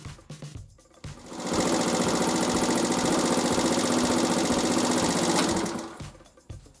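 A Benzhou 50 retro four-stroke Chinese scooter engine, which runs badly, is revved up from idle. It settles into a loud, buzzy, rapid chatter held for several seconds, then drops back to an uneven idle.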